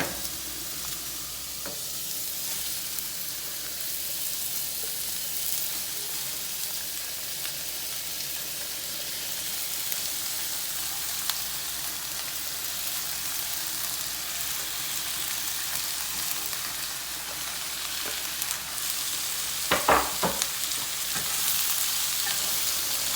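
Curry chicken and vegetables sizzling in a pan, a steady hissing crackle that runs on without a break, with a sharp clatter or scrape near the end.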